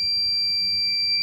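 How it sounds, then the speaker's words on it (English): Garage parking assistant sensor buzzer sounds a continuous shrill high-pitched tone, loud and close, steady throughout with nothing else. "buzzer's going off"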